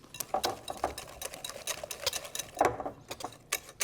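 Flan pâtissier batter mixed vigorously by hand in a bowl, giving rapid, uneven scraping and tapping strokes that repeat close up throughout.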